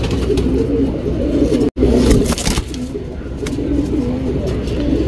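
A tournament pigeon coos loudly and close by in low, rolling, repeated calls, with a brief scrape and a momentary dropout in the middle.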